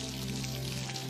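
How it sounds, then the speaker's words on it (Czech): Steady rain falling, a soft even broadband patter with no distinct drops, moderately faint and continuous with no voices. "Ano, prší."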